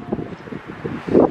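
Wind blows at the seaside at Veulettes-sur-Mer at low tide, a low, rough buffeting rumble across the microphone that swells and eases in gusts, with no voices.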